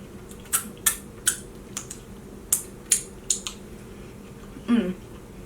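A knife cuts up watermelon at a late-night snack, giving a series of sharp crisp cuts and taps in an irregular rhythm, close and fairly loud, followed by a brief squishy rub near the end.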